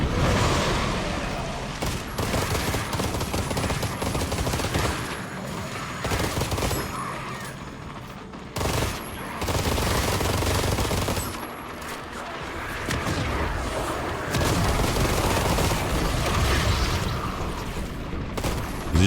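Gunfire from a weapon in the video game ARMATUS comes as loud, dense bursts of rapid shots, broken by brief pauses, and lasts nearly the whole span without talking over it.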